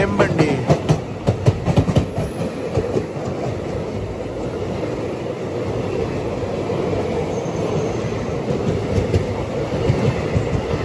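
A passing Handri Express train rumbles past close by with rapid clickety-clack of wheels over rail joints, loud and steady throughout, with no talking.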